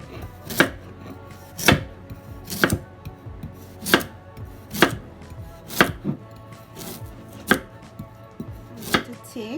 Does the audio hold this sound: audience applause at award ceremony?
no